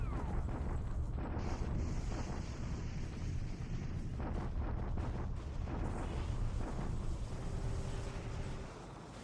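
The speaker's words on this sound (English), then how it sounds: "Now it's time for the Allies to counterattack and bombard us." Allied artillery bombardment in the War in the Pacific strategy game: a dense, continuous roar of distant shellfire and rumbling blasts that runs steadily for several seconds and eases slightly toward the end.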